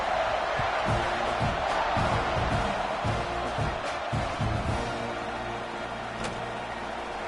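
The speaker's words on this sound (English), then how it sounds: "this crowd is buzzing after that last score" A football stadium crowd hums with a broad, steady buzz after a score as the teams line up for the kickoff, with scattered shouts and whoops rising through it and a commentator talking over the noise.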